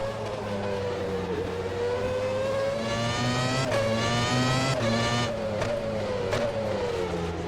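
A 1998 Formula One car in the rFactor 2 racing game screams steadily at high revs for several seconds, the engine pitch rising and dipping through gear changes, loud and continuous with no talk.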